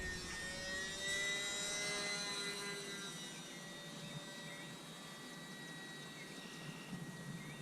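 A small UMX Pitts S electric RC biplane at full throttle in flight, giving a steady, fairly loud high-pitched whine with a faint drone that holds throughout and eases slightly toward the end.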